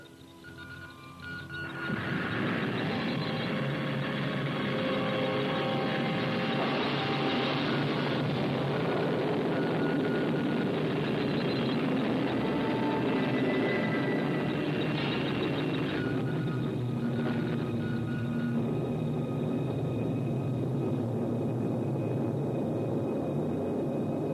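Spacecraft retro rockets firing as a film sound effect: a loud, sustained roaring rumble that swells in over the first couple of seconds and then holds steady without a break.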